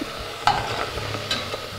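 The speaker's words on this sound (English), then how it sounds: "All right, so you heard that sizzle." Cubed precooked ham sizzles in a hot pan, a short close-up crackle of frying with stirring scrapes and no talking.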